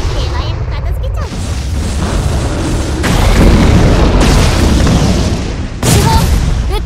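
Main cannon volleys fired at enemies in the Abyss Horizon game, a string of loud, heavy booms and blasts that run into one another with rumbling tails, while a voice speaks over the gunfire.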